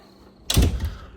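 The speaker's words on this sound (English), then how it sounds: "let me go ahead and close this door" A door is pulled shut with a single solid thunk after a quiet room hum, a close, short impact with a brief rattling tail.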